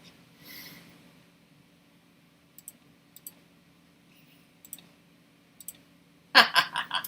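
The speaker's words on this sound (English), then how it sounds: "So much clicking." Sparse clicks tick at irregular intervals through near silence, then a burst of louder, rapid clicking crowds together toward the end.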